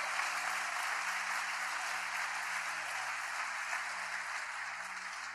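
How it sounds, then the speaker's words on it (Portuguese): A church congregation applauds steadily and loudly during a pastor's sermon, a dense sustained clapping that fills the whole stretch without pause. "Você pode aplaudir e glorificar ao Senhor por isso?"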